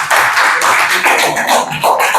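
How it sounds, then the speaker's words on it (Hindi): Students in a classroom break into loud applause, a dense, sustained patter of many hands clapping close by, with a brief dip midway suggesting two bursts. "जरा 2 जोरदार तालियां बजा दें"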